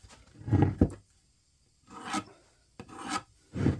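A Ridgid power sander works wood in four short rasping bursts, each under a second, separated by quiet gaps, close and fairly loud.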